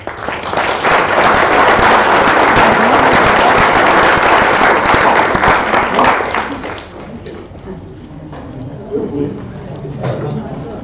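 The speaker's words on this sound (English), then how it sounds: "a warm round of applause to all of you" Audience applause closing an evening event, a dense, loud crackle of many hands for about six seconds that then thins and fades, giving way to speaking voices.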